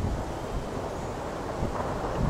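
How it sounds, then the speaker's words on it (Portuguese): Strong wind buffets the microphone outdoors, a continuous loud rumbling roar with gusty swells and no speech. "Tá um vento absurdo aqui."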